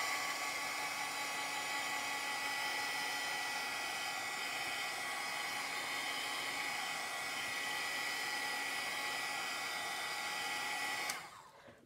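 Hair dryer blowing over chalk paste on a hanging banner, a steady loud whirring hum held for about eleven seconds before switching off abruptly, with no talk.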